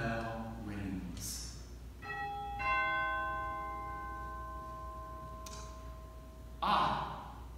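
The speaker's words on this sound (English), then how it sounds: "when the doorbell rings." A bell chime rings indoors, several clear tones struck one after another and left to ring out, moderately quiet against a soft background hum.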